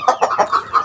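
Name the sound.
Madura native chicken clucking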